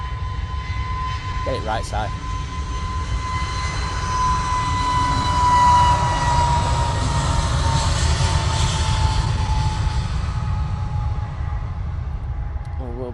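A Norse Atlantic airliner on final approach at Manchester Airport produces a steady distant jet rumble with a faint whine that swells and fades, while someone speaks briefly over it.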